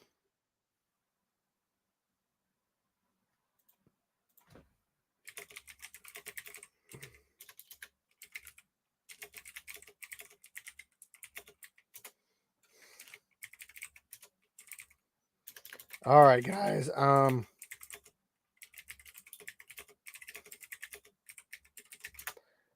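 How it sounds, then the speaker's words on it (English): Computer keyboard typing in bursts of quick clicks, close and fairly soft, with a loud spoken phrase interrupting midway and more key tapping resuming after it. "Typing."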